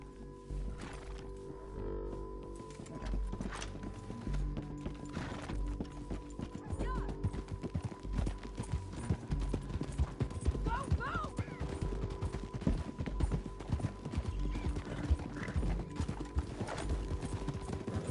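Horse hooves clip-clop steadily in Red Dead Redemption 2, with occasional whinnies and distant gunfire bursts under low game ambience and some talk.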